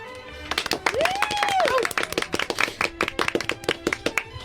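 A handful of sharp, separate claps ring out in an uneven rhythm, close and fairly sparse, with a voice speaking over them, as a small audience applauds during a comedy stream.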